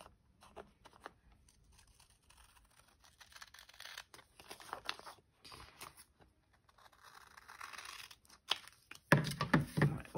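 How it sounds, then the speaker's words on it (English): Scissors snip through paper ephemera for a journal page, giving soft, sporadic cuts and light crinkles close by at low volume, with a louder burst of snipping and rustling near the end. "Maybe I'm finally getting the hang of using scissors."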